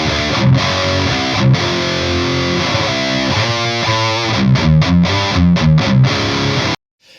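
Heavily distorted electric guitar played through a Celestion V30 speaker, chugging palm-muted metal riffs with rhythmic stops, loud and close, ending in a sudden cut to silence.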